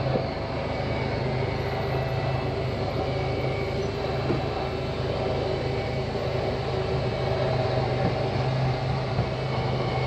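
Electric slide-out motor on a 2014 Jayco Eagle HT 26.5 fifth-wheel RV retracting the room, a steady continuous mechanical hum and drone at even loudness throughout, with no talking.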